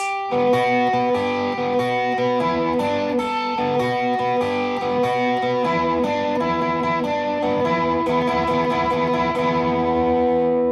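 A distorted electric guitar plays a fast solo phrase of bent and picked notes, loud and sustained, with heavy effects and no talking.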